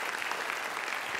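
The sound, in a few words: audience applause for speaker Mike Muhney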